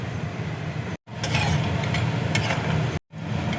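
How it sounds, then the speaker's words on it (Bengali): Cashews and almonds dry roasting in a frying pan give a steady rustling, scraping stir with faint clinks, continuous and close, broken by two brief silent cuts. "কাজু আর আমন্ড দেখো ড্রাই রোস্ট করে নিয়েছি"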